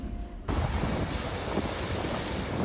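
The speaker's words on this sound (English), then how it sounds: "Gusty winds and icicle-covered branches at the beaches." Gusty wind buffets a microphone at a wintry beach among icicle-covered branches. A quieter stretch gives way to a sudden loud, roaring rush that stays steady, with surf-like noise beneath it.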